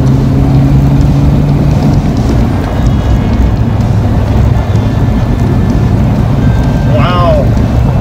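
Coupe car with a B303 V8 engine and T5 manual transmission on its first drive after a fire, a steady loud interior rumble of engine and road noise with wind throughout, and a voice speaking over it.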